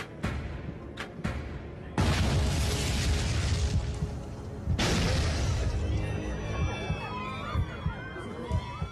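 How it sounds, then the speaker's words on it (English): Two loud explosive blasts a few seconds apart aboard Japan Airlines Flight 123, a Boeing airliner in flight, each a sudden roar that lingers, followed by a rumbling, rattling aftermath with shrill squeals. "Two explosions rock the plane."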